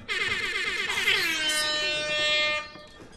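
A single loud, sustained honk from an air horn sound effect in the Resident Evil 7 horror game, holding for about two and a half seconds before cutting off, with no voices.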